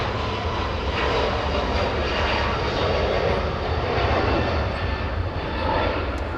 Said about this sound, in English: A321 Neo departing right now.